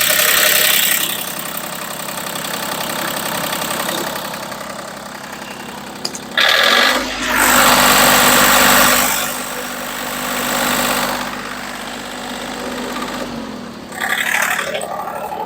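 An ISEKI TU175 tractor engine idles with a soft, steady mechanical hum that swells in the middle of the stretch, with brief scraping and handling noises around it.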